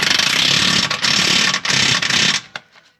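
An impact gun fitted with a socket drives a lower front suspension arm bolt on a 2014 Nissan Leaf Tekna. It gives a loud, dense rattling hammer in sustained bursts with brief pauses, then stops abruptly.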